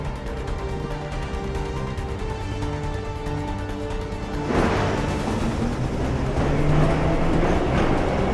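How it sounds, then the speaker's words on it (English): A subway train in the game Assassin's Creed III rumbling steadily, with the noise swelling louder about halfway through as it rushes past, a continuous close roar with no talk. "Okay, head for the metro. I'll hold the train for you."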